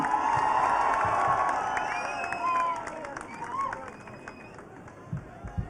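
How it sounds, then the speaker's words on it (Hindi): Loud applause and cheering from a university audience at NIMS University greeting actor Rajpal Yadav, a dense crowd roar with whistles and shouts that gradually fades, with voices over it. "श्री राजपाल यादव जी, जोरदार तालियां"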